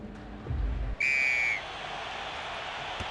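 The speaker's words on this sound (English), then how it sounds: "A blow of the whistle from the referee" A rugby referee blows a single short, shrill whistle blast at a Pumas versus Springboks match, ringing out clearly over a steady stadium hum.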